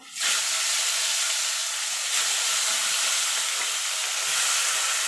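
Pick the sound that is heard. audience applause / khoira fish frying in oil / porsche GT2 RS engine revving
khoira fish frying in oil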